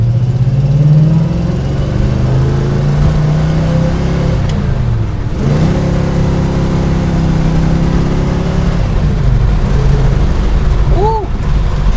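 A 1965 Pontiac GTO's V8 engine drones steadily and loudly while driving, with rising and falling engine tones as it accelerates and shifts, continuous throughout with a brief dip midway.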